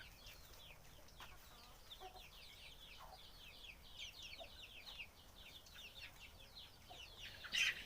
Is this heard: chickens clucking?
yes